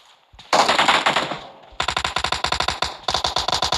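Automatic gunfire in the battle royale video game PUBG: a long loud burst, a pause, then rapid rhythmic volleys of sharp shots, close and with no talk.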